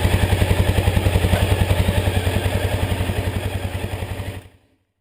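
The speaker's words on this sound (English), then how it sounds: "start the engine to allow oil to circulate through the system" A Honda XR600R motorcycle engine idles after an oil change, a steady, loud thumping single-cylinder beat at even rhythm for several seconds, then cuts off abruptly into silence.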